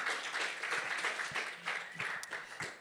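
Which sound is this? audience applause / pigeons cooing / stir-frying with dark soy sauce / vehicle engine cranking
audience applause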